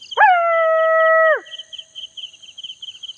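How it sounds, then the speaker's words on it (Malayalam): A stray dog lets out one sustained, close howl lasting about a second, then falls silent while a faint high background tone and soft noises continue. "പട്ടികളുടെ ശല്യം"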